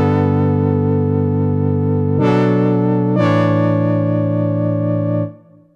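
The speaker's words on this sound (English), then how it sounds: "it's Cthulhu by Xfer, and it's basically a chord generator" Rich, sustained synth chords from the Xfer Cthulhu chord generator, three successive held chords with bright attacks, loud and alone, the last fading out at the end.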